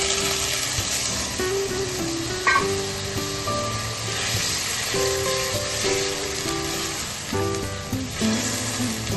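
Ginger garlic paste water hits a hot frying pan for biryani, giving a continuous close sizzle with crackling, brief stirring clatters and occasional louder spits throughout.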